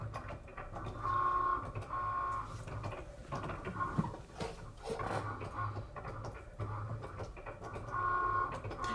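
A Cricut Explore cutting machine works with a premium fine point blade, a mechanical whirring hum that rises and falls in repeated passes, punctuated by soft clicks and shifts, close and moderately loud without talk.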